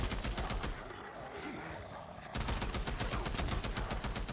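Dense, rapid machine gun fire from the video game Days Gone comes in loud sustained bursts, breaks off briefly, then starts again just as heavily, with no voices over the gunfire.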